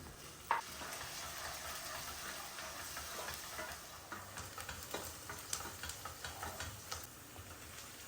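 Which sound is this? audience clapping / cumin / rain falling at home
cumin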